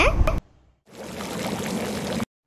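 Water is poured into a bowl of meat in a home kitchen, making a steady close trickling splash for about a second and a half after a short burst of other sound and a pause.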